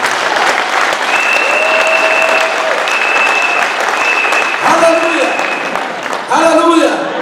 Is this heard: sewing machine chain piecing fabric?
no